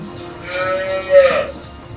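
A heavy-sized HF Jersey cross calf gives one short low moo nearby, with faint farm background around it.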